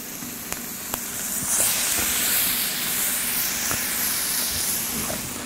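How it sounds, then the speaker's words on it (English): Peppercorn-crusted venison steaks sizzle in a skillet of melted butter, a broad steady hiss swelling after the first seconds, with a few light clicks and taps from handling in the pan. "just roll them in the crushed peppercorns. Place them in the skillet."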